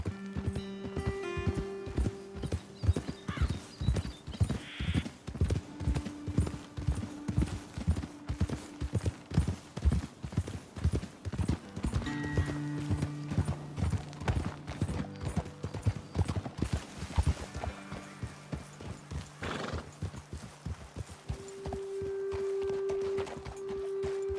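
Rhythmic clip-clop of horses walking on a hard surface in the video game Red Dead Redemption 2, steady hoofbeats throughout with an occasional whinny and a faint musical tone.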